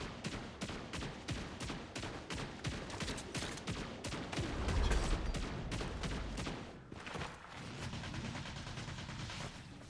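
Rapid bursts of gunfire crackle steadily through a first-person shooter match, the shots closely spaced and fairly loud with a heavier low rumble around the midpoint and no talking.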